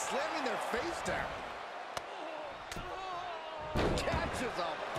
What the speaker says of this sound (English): They're slamming their face down.